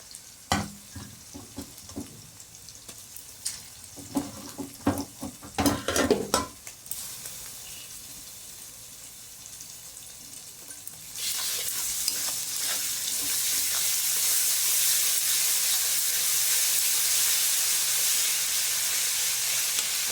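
Onion and ginger-garlic paste frying in a pan for a prawn and potato curry: scraping stirring strokes at first, then a loud steady sizzle that fills the rest, close and with no voices.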